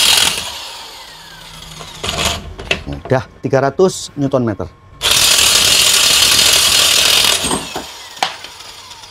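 A Dongcheng DPB20C electric impact wrench, rated 340 watts, runs close and loud in rapid hammering bursts, with a short burst, a pause with someone talking, then a longer sustained run.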